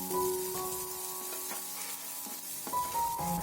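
Sliced onion and carrot stir-fry with ginger, garlic and green chili in a hot pan, giving a soft, steady sizzle with occasional stirring scrapes, close by, over a faint steady background hum.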